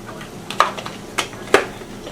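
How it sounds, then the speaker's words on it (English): A spoon stirs blue cheese crumbles into a pot of buffalo chicken soup, giving three or four sharp close clinks against the pot over a soft background. "we'll stir that around so it gets nice and melted in there"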